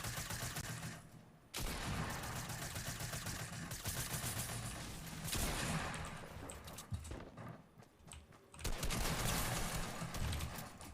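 Fortnite gunfire plays as a loud, dense stream of rapid automatic shots in several long bursts separated by brief pauses, with footsteps and other game sounds mixed in.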